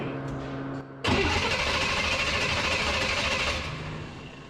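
Chassis-swapped 1953 vehicle with its fuel pump hooked up, cranking hard without firing: a loud, steady, rough starter churn lasting a few seconds, preceded by a lower hum and easing off at the end.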